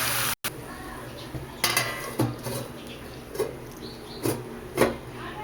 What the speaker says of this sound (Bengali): আমি এবার এই সবজিগুলোকে একটু ঢাকা দিয়ে দেবো